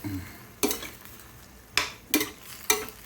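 Chicken adobo with ketchup is stirred in a pan: four sharp scraping strokes of a utensil against the metal, spaced irregularly, over a faint steady sizzle.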